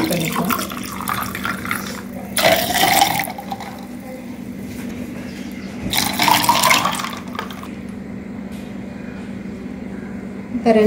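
Water is poured into glasses for nannari sarbath in two separate splashing streams, close and fairly loud, with a steady hum underneath and talking around them.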